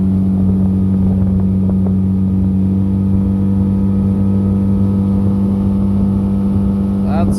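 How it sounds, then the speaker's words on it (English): A motorboat engine held at wide open throttle, a loud steady drone with a constant low hum and rushing water noise, close and unbroken throughout. "Running wide open throttle."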